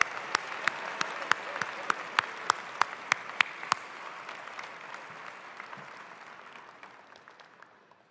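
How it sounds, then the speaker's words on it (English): Audience applause at a campus graduation ceremony, a steady wash of many hands clapping with a few sharp nearby claps standing out at first, then gradually thinning and fading away. "let's give her a rousing round of applause."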